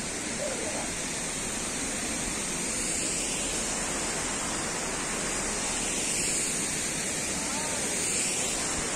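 A roaring waterfall at a scenic viewpoint in Coonoor fills the scene with steady, loud broadband rushing that never lets up, close and overwhelming, with a faint voice barely surfacing beneath the torrent.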